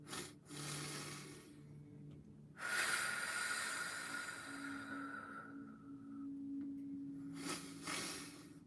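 A slow, steady inhale during a guided breathing exercise, heard close and soft as a long airy rush with faint tonal hums beneath and no talking.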